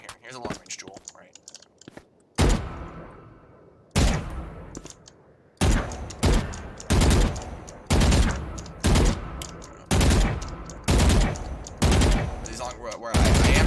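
Gunshots ring out in a long-range duel in a video game: about a dozen loud, sharp single shots spaced roughly a second apart, each with a short decaying tail, after a quieter opening stretch.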